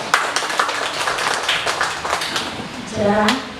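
A church congregation claps in a dense, crackling burst that carries on steadily under a voice, then a short vocal sound near the end.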